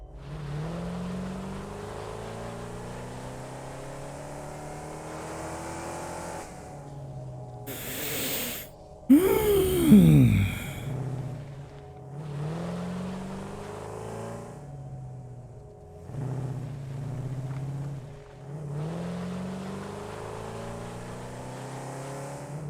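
A car engine drives in the factory-building video game Satisfactory, a low steady hum that surges into a sharp revving whine at one point, then settles back to a drone with brief dips, heard under game ambience.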